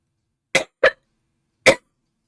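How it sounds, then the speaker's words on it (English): Three separate coughs hit a microphone close up, two quick ones in a row and then a third after a short pause, loud and dry, with silence between them. "How bad is my cough whenever I cough into the mic?"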